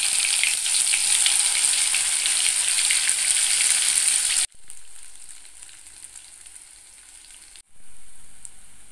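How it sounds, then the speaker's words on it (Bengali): Poppy seed fritters fry on a low flame in a wok with a dense, loud bubbling sizzle, which drops to a much quieter crackle after a cut and then rises again. "বড়ার আকারে শেপ দিয়ে কড়াইয়ের মধ্যে দিয়ে দিলাম। পোস্তর বড়া সবসময় লো ফ্লেমে করতে হবে"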